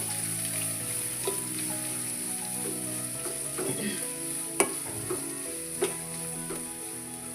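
Onion fries over medium heat in a pan while being stirred for samosa filling, a steady soft sizzle with a few sharp clinks of the spoon against the pan.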